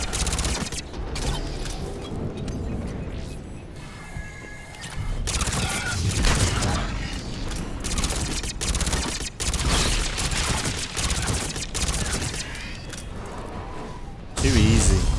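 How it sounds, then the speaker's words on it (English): Incendiary ammunition fired in Mass Effect 3, rapid bursts of loud gunfire with mechanical clatter and impacts, dense and continuous through a chaotic game battle. "Incendiary ammo is so good."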